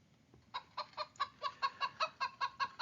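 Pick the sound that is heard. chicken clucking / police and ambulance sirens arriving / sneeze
chicken clucking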